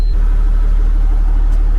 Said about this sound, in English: This truck starts up real good.